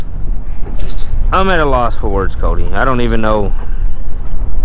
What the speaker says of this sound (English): A little windy right now.